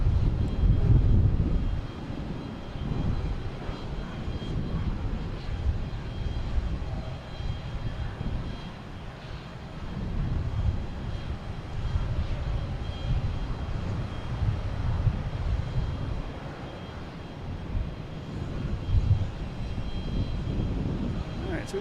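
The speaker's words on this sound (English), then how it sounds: "we have an American E175 heading to Raleigh" An American Airlines Embraer E175 jet taxis at Boston Logan Airport bound for Raleigh-Durham, giving off a moderate, steady engine rumble that rises and falls gently with distance and airport background.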